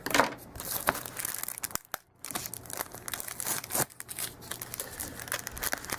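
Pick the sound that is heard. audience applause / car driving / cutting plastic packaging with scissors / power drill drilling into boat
cutting plastic packaging with scissors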